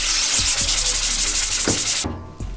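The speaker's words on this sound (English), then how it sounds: "This one's dedicated to the haze remover, so let's give it a little scrub." A scrub brush rubs rhythmically across a printing screen coated with haze remover, giving rapid, loud back-and-forth bristle strokes close up that stop abruptly near the end, followed by a couple of lighter scrubs.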